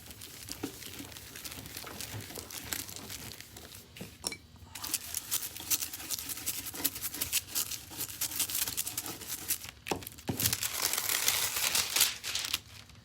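Golden Hearts foil peeled away from a lightly textured craft ornament, giving a close, steady crinkling with irregular crackles and a few louder rustles near the end, and no talking.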